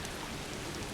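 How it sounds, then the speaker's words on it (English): Steady timefall rain in the Death Stranding 2 video game, a dense, even hiss of falling drops on surfaces that holds at a constant level throughout, with no voices. "it's raining"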